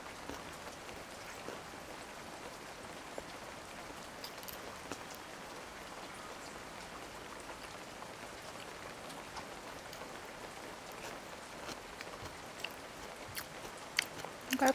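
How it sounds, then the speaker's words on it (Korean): Steady rain ASMR plays as a background layer during a Korean solo drinking mukbang with makgeolli, a dense continuous patter of raindrops with faint chewing-like clicks and a few louder taps near the end. "여기에 이제 빗소리 ASMR 쫙 깔아주면"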